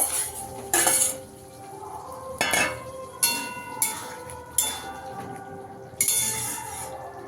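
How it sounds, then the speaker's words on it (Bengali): Fried potatoes tipped into a pan of cooking spice mix for a potato-eggplant fish curry, giving repeated metal clinks and scraping of a utensil against the pan in bursts, close and fairly loud, with a faint sizzle underneath and no talking. "ভেজে রাখা আলুটা দিয়ে দেবো"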